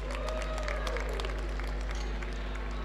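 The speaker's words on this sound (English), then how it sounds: "Big round of applause," A crowd claps steadily in sustained applause at a weightlifting championship, moderately distant, with faint voices mixed in throughout.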